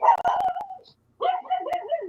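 A dog barks in several sharp, loud bursts nearby, going quiet briefly before a second run of rapid barks and yips.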